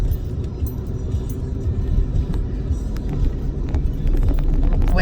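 A car engine rumbles low and steady throughout, with faint rattles and jangling over the constant drone.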